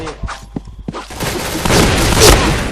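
Video game gunfire starts as a few sharp separate shots, then builds into a dense, loud stream of rapid fire and blasts.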